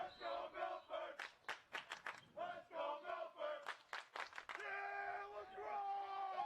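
A Milford home crowd at a boys lacrosse game roars and chants in rhythmic bursts, loud and close, swelling into sustained shouting and cheers as a hype man enters the field.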